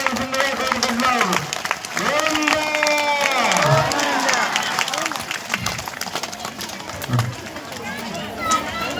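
A crowd claps and cheers after a Sri Rama kalyanam wedding ceremony, loud and close, with excited voices and shouts rising over steady applause.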